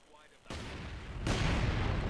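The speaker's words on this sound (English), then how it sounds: "Mortars firing." Mortar fire in the Company of Heroes 2 strategy game, with a sudden heavy blast followed by a second, louder surge of booming barrage that rumbles on densely and close.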